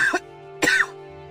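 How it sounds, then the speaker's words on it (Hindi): An old man coughs twice, close and raspy, with a short pause between the harsh bursts. "काका खांस रहे थे।"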